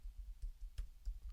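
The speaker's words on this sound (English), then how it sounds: "Cannot type on this tiny keyboard." A few faint, soft clicks of typing on a tiny keyboard, quiet and spaced irregularly against a low background hum.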